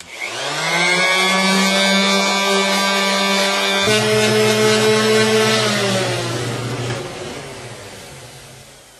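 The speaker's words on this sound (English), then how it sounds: "I noticed there's a little rough spot there which I'm going to take out with the orbital sander" An orbital sander smooths the end grain of a tulip wood rib, with a loud, steady motor whine that drops in pitch midway as it bears on the wood, then winds down and fades near the end.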